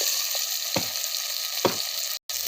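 Tomatoes sautéing in a pan for Tamil vathal kuzhambu, a steady close sizzle with a couple of sharp stirring scrapes and a brief drop-out near the end.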